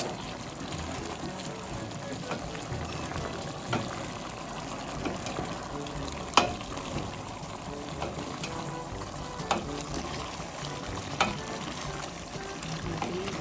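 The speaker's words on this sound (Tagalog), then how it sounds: "Ayan mga kadilag, at mga haluin. Kumulo na siya." Adobo boils and is stirred in a pot, giving a soft, steady bubbling and simmering hiss with occasional small clicks and knocks from the spoon. No speech is heard.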